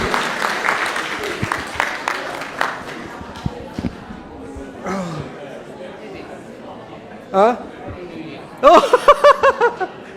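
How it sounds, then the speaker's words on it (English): Audience clapping at a Buddhist talk starts loud and dense, then thins into scattered claps as laughter, chatter and speech take over. "A big applause for them again."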